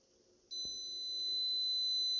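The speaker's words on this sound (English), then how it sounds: "So got the multimeter back on the ohm setting." A multimeter set to ohms emits a sudden steady high continuity beep while testing a new electric water heater element, the tone holding on alone after a faint click.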